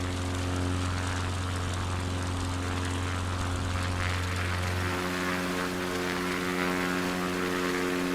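Propeller aircraft engine in Microsoft Flight Simulator 2024, a steady droning hum with strong low harmonics running near max RPM throughout, its pitch dropping slightly about halfway through.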